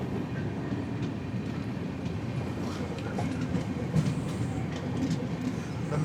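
The 16332 Express runs on rails near Alappuzha station, a steady rolling rumble with soft clickety-clack heard from inside the carriage, continuous and moderately loud throughout.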